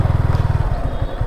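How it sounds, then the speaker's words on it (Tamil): Motorbike engine on a road trip toward Pichavaram, a loud close pulsing putter with a steady rapid rhythm, heard from the vehicle being ridden rather than one clearly approaching. "பின்னாடி வண்டி வருதான் பாரு"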